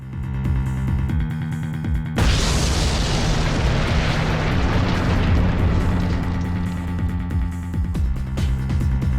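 Video game bomb blasts, a loud sudden boom that breaks over a steady droning music bed, then a long rumbling, crackling wash that slowly dies away, with a lighter burst near the end.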